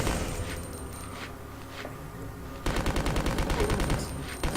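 In Code Veronica X, Steve fires two guns at once: a few scattered shots, then a loud, rapid, unbroken string of gunfire bursts that runs to the end.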